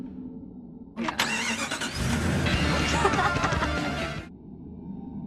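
A car in a film drives off, its engine rising loud and close for a few seconds over a steady background hum, then cutting back to a low ambient drone.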